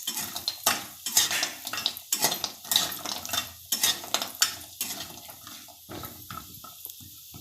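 Spices, including turmeric root and nutmeg, with asafoetida added, fry in hot oil for Malvani masala, giving a steady sizzle broken by repeated scraping, clinking stirs of a spoon against the pan, close and clear with no talking.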